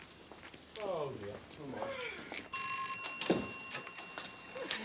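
An old telephone bell rings at night in a country house, two loud bursts of ringing partway through, with people talking just before and over it.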